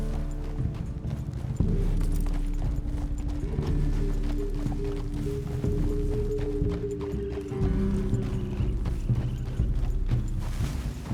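Horse hooves drum steadily in Red Dead Redemption 2 as a ride continues, a loud rhythmic clopping set among game sounds and a low musical drone, with no talking.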